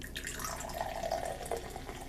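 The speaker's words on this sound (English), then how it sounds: "see how badly I can mess up pouring soda into a glass while wearing a funny thing" Mountain Dew VooDew soda pours into a glass, a soft, steady fizzing trickle that stays faint and close for a couple of seconds.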